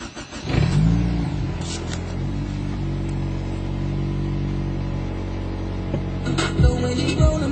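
A Nissan B14 car engine cranks briefly, catches and settles into a steady, close idle hum, with a couple of small revs toward the end.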